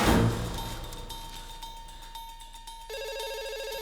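A telephone rings with a bright, electronic trill that grows stronger toward the end, heard faintly and close with no talking.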